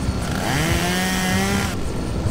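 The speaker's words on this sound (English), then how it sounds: "Okay, chainsaw. Let's get them." A chainsaw whines in the Henry Stickmin game during the Toppat Clan mission, a loud sustained buzzing drone with rising and falling pitch that stops sharply shortly before the end.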